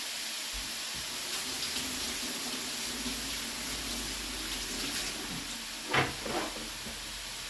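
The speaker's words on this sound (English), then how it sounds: "I'm gonna rinse my hands before I touch you." A kitchen tap runs in a steady, moderate hiss while hands are rinsed under it, with a couple of brief splashes near the end.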